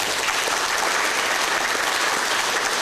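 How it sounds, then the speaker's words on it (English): Applause from an audience at a middle school National Junior Honor Society induction ceremony, a dense, steady clapping that fills the whole stretch at an even level with no voices breaking through. "Please join me once again in applauding all of our new Junior Honor Society members."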